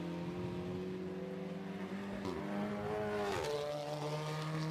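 Race cars at Oulton Park during a Tegiwa Club Enduro Championship endurance race, one car pulling out of the pit lane, engines droning steadily with rising and falling pitch sweeps as a car accelerates past, loud and continuous.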